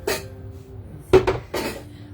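Cooking pots clatter and clank on new shelves as someone rummages through them. Three quick, close bursts of metallic knocking are separated by short pauses, with no talking.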